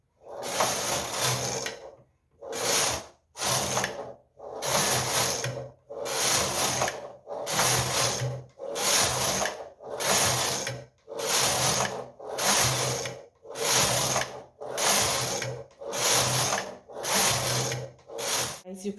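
A Silver Reed knitting machine carriage is pushed back and forth knitting a slip pattern, a loud close ratcheting whir in about ten even passes separated by short pauses.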